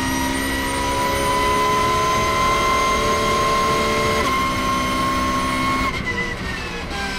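A Porsche 911 Cup race car engine screams at high revs during the 24-hour race at the Nürburgring, a loud sustained whine that dips sharply once as the car brakes into a corner.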